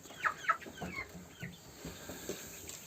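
Quail chicks and adult quail in a small hobby coop give faint, scattered clucks and chirps at close range, with no talk.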